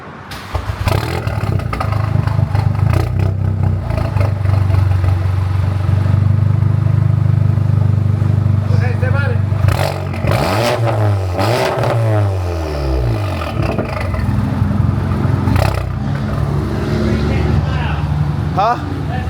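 A straight-piped MK7 VW GTI with its exhaust tip off drones loud and close, with steady low rumble and throaty revs and a couple of sweeping blips near the middle; a voice talks over it.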